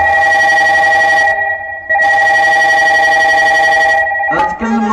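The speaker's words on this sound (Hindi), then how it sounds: "रावण फोन लगाया किसको?" A telephone bell rings in loud repeated bursts, two long electronic trills separated by a short pause, followed by a brief clatter, during a devotional Hindi performance of the Lakshman Shakti episode.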